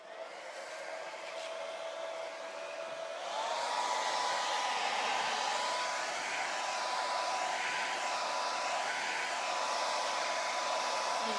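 A hair dryer blows on wet paint on the polka dots of a painted witch boots door hanger, giving a steady whirring hiss that steps up to a louder, higher whine partway through and then holds alone.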